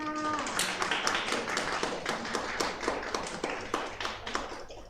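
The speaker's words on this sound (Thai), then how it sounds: "ขอเสียงปรบมือให้น้องๆหน่อยค่ะ" Children at a kids' talent show are applauded after a hammock performance; light, quick claps patter steadily and fairly quietly over a low background hum.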